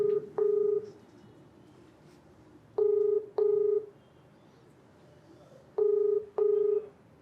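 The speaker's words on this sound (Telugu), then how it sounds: "కాల్ చేస్తాను" A telephone dialing out for a call, its keypad sounding paired DTMF tones in three evenly spaced pairs of short beeps, clear and close with silence in between.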